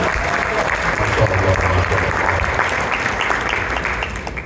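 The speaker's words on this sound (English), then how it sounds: "Clap it up, everybody." Interfaith iftar audience applauding a speaker, a dense continuous roll of clapping from a sizeable crowd, loud and even before tapering slightly at the close.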